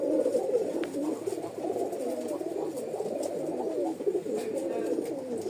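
Rajshahi Giribaz pigeons coo continuously at close range, with soft overlapping throaty calls throughout.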